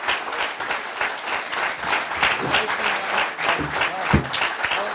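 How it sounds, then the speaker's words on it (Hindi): An audience at a poetry gathering in Milton Keynes, England, breaks into sustained applause for Imran Pratapgarhi, a dense, steady wash of clapping from many hands for several seconds. "भरपूर तालियां बजाइए जनाब इमरान प्रतापगढ़ी साहब के लिए।"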